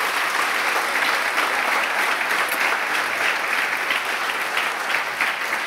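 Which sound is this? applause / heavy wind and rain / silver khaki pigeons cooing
applause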